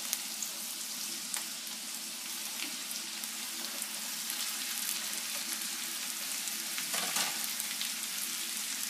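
Sliced potatoes tumbling into a pan of frying onions for diner-style home fries, giving a broad, steady hiss with a few brief scraping accents, close and even.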